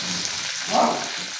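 Tomatoes sizzle in a hot pan while Filipino pork pochero cooks, a steady close frying hiss with a slightly louder swell partway through, no voices.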